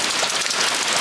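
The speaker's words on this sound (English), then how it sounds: "just take a look at that rain. It really is raining." Heavy rain pouring steadily outside a cottage under renovation, a dense, continuous hiss of drops on surfaces, loud and close, with no voices.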